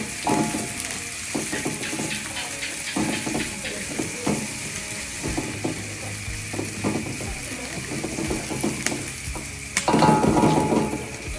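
Maggi noodles frying in a pan on a stove over a moderate flame, a steady sizzle with scraping, clinking stirring strokes throughout and a louder burst of sizzling near the end.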